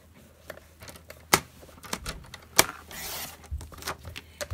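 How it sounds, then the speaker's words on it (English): A paper trimmer slicing Berry Burst cardstock, sharp clicks and clacks of the blade and arm, then a short scraping swish of the cut, all close and alone. "I'm going to cut the Berry Burst cardstock."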